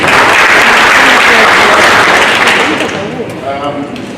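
Large audience at an African festival event clapping loudly and steadily, a dense sustained roar of applause that fades somewhat toward the end as a voice begins to emerge.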